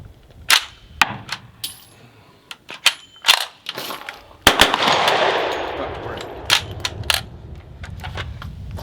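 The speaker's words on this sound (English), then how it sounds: "These guns and guns like these are a hell of a lot of fun to shoot." A Kriss Vector in .45 fitted with a binary trigger firing at an outdoor range, loud close cracks in quick pairs and short bursts with gaps between strings and faint echo.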